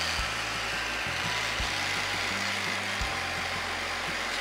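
An Amope two-speed electronic nail file whirs against a fingernail, a steady close motor buzz whose pitch shifts and stutters as pressure changes and the unit starts and stops.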